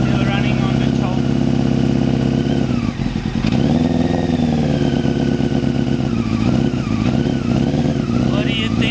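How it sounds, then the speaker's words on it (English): A new motorcycle engine warming up on choke, running steadily and loud with slight rises and falls in pitch, close by, under ongoing talk. "Just to warm up. Still running on the choke."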